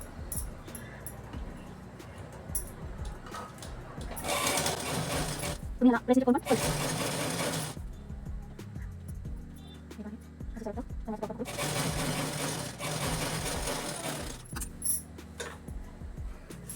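A domestic sewing machine stitches a salwar in two sustained loud runs, each lasting a few seconds, with quieter handling and speech in between.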